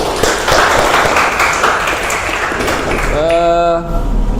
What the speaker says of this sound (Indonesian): Oke, beri aplaus dulu buat Aisyah.